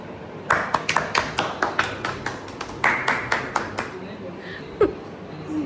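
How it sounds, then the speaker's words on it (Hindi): A small group at home claps hands in celebration, a quick run of sharp, close claps for about three and a half seconds before it trails off, with a brief voice near the end. "तालियां मारो तालियां।"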